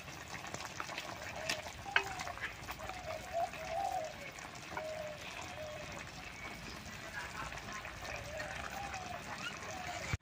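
Jal dumur (water fig) pickle stirred in thick sugar syrup in a pan, a soft continuous bubbling sizzle with occasional light scrapes under quiet talk in a village kitchen.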